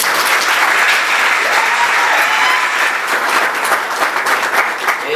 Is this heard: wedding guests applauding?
yes